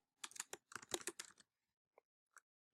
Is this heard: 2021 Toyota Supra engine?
no